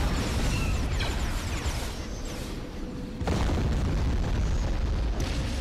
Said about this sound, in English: Let's do a bombing run right there.